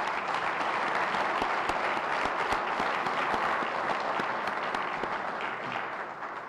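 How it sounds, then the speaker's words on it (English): Press-conference audience applauding a team's best combined finish in decades, a steady, dense roar of many hands clapping that continues evenly throughout and eases slightly at the very end. "please give me a round of applause for that and recognize it"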